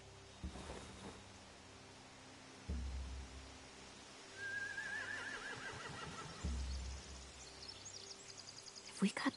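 A horse whinnies in a rising, wavering call in The Walking Dead video game, amid a busy game ambience with thumps and some background noise.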